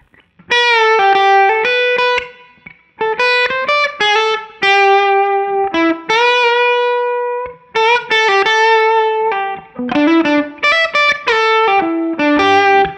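Gibson ES-335 semi-hollow electric guitar played through an amp with light gain and little compression, picking bright sustained notes and chord phrases in bursts separated by short pauses, close and loud with no talking.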